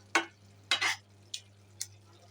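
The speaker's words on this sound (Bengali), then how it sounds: "মাছগুলিকে মশলা দিয়ে ভালো করে নেড়ে চেড়ে," Spatula scrapes and stirs hilsa fish pieces coated in spices in a pan, four short separate strokes spaced over a couple of seconds against a quiet background hum.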